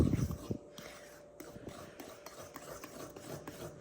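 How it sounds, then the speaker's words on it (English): Brownie batter stirred in a bowl, a quiet, close rasping and rubbing of a utensil against the bowl in uneven strokes, with a light thud near the start. "So I'm gonna stir this up real quick"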